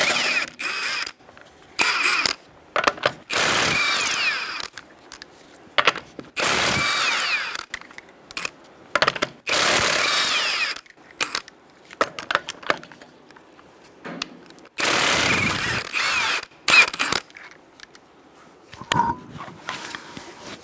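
A 21mm socket on a ratchet or power tool works loose a front wheel on a 2010-2013 Kia Soul, with repeated bursts of clicking and whirring mechanical noise close by, separated by short pauses.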